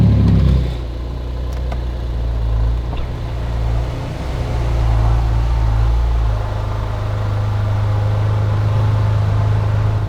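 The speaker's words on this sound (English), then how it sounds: "So this is valves closed. Very muted, but you can hear the turbos." A Porsche turbo engine idles with its exhaust valves closed, giving a steady, muted low rumble up close with a faint turbo whir, after a brief stronger burst at the start.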